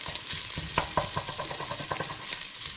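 Ginger, garlic, onion and chilies fry in a pan, a steady sizzle broken by scraping stir strokes, close and clear with no voices.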